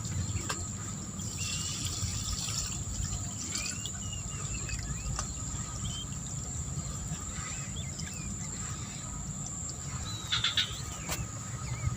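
Household waste water, with leftover dark bits of rubbish in it, streams steadily into a bucket, giving a continuous close trickling gush with a few faint clinks and no talk over it.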